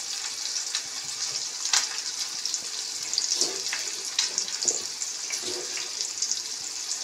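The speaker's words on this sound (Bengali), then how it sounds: "এদিকে পেঁয়াজটা আর শুকনো লঙ্কাটা ভালোভাবে আমি মরমরে করে ভেজে নিচ্ছি।" Onion and dried red chillies frying until crisp in a pan, a steady close sizzling hiss with small crackles throughout and no talking.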